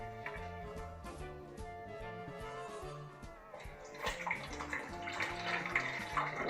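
Water is poured from a height into a bowl of sugar while gelatin dessert is being mixed, giving a steady splashing stream that grows brighter toward the end, with music playing underneath and no talk.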